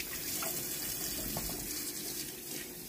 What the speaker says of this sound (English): Just gonna wash my hands after.